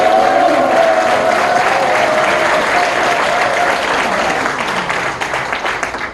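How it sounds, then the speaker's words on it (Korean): Loud, sustained applause with cheering from a large audience at a ceremony, a dense continuous roar of clapping that tapers slightly toward the end. "이 장소가 떠나갈 정도로 커다란 박수와 함성을 부탁드리면 어떨까요"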